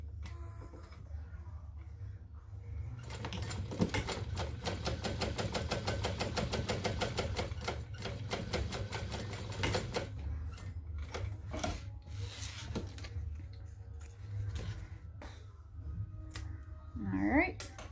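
A sewing machine top stitching about 1/8 inch from the zipper on a zippered pouch, running in a steady rapid stitching rhythm for several seconds, then slowing and stopping, with low room hum beneath.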